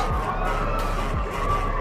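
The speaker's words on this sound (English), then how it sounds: "the crowd from Lincoln West really making some noise" Steady wash of crowd noise from Lincoln West fans cheering at a high school baseball championship at Jacobs Field, a continuous roar without distinct voices.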